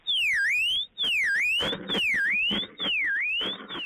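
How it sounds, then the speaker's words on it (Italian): A burglar alarm at a bike shop blares during a break-in, a loud siren sweeping down and back up in four repeated cycles, with bursts of clattering and banging beneath it. "scatta l'allarme"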